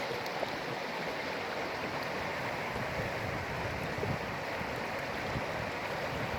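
Water swirls and washes steadily in a gold pan during hand panning of sluiced gravel and sand in Alaska, a continuous close rushing wash with no pauses and no talk.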